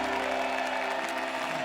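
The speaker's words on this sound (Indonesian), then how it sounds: "tepuk tangan lagi dong" A studio audience at a television talent show applauds, a dense, even wash of clapping that holds steady for the whole short stretch.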